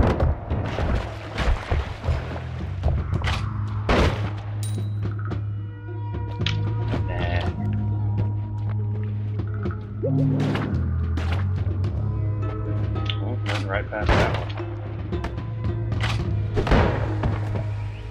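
Bomb shot and exploding in the game Noita, a run of sharp thumps and booms at irregular intervals over a low droning background, with voice in places.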